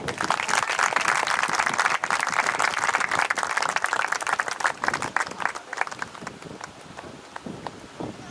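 Guests at a ring ceremony applaud in dense, lively clapping that is strong at first and gradually thins out toward the end.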